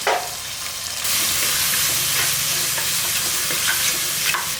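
Tomatoes and onions sauté in hot oil for spinach sambar, a steady close sizzle with stirring scrapes throughout and no talking.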